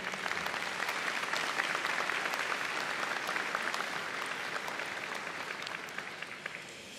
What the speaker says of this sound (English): would you join me for one more round of applause and thanks for the people sitting to your left and right